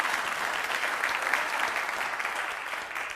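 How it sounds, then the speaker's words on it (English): A congregation applauds together for an honored member at a church gathering, a steady, dense wash of clapping from many hands that holds evenly throughout, with no voices over it. "Let's give him a round of applause."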